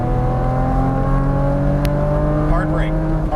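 A Porsche Cayman on a racetrack, its engine droning steadily loud with strong harmonic tones and a rising pitch at the end as the throttle opens, under a driving coach's voice.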